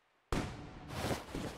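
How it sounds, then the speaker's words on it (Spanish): Fireworks at a village party in Spirit of the Island burst in abruptly out of near silence, then carry on as a dense, booming crackle of pops and rumbles with repeated swells. "Ah, porque faltaban los fuegos artificiales."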